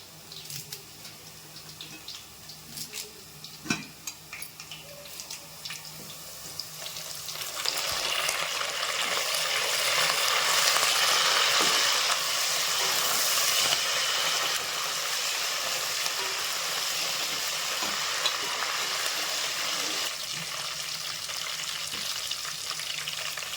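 Onion and curry leaves frying in oil for chicken fry, starting with quiet scattered clicks and clatter, then a loud, dense sizzle bursting in as leaves hit the oil and continuing steadily with light stirring.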